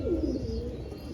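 A single short coo from a pet pigeon being treated for pigeon pox, soft and close, with no other sounds.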